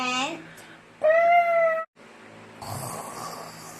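A voice imitates a cat's meow in a story about animals trying to quiet a snoring animal, one drawn-out, wavering meow near and clear, preceded by a brief vocal sound and followed by quieter noise.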